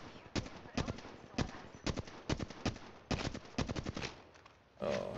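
Rapid bursts of gunfire from the shooter game Apex Legends crackle in quick, uneven volleys, sharp and fairly close, followed by a louder thump at the end.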